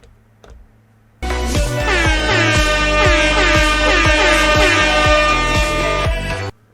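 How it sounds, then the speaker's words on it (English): A loud air horn blares in a repeating loop, each blast restarting rhythmically for several seconds before cutting off abruptly. "I got the air horn to loop"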